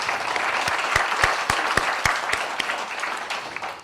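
Audience applause at an annual general meeting welcomes Providence Care to the hospitals category, a steady burst of many hands clapping with a few sharp louder claps, continuous and unaccompanied by speech.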